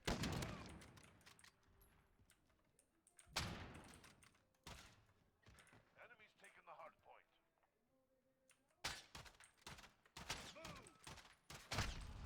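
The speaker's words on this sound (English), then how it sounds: "that was like the most scuffed gunfight I've ever seen" Video game gunfire from a Call of Duty gunfight comes in several loud, sharp bursts of shots, separated by gaps with quieter game sounds and someone talking throughout.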